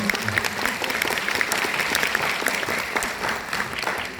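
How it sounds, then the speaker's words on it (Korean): Audience applause at a disability day ceremony held by a district association in a concert hall, steady dense clapping filling the room throughout, loud and continuous. "자, 박수 보내주세요."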